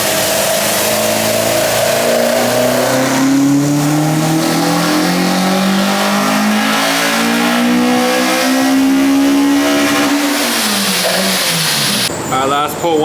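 Honda car engine, a Toda-built B-series in an EG chassis with a Spoon K20A setup, revs on a dyno pull, rising through the gears in a loud climbing wail before lifting off near the end.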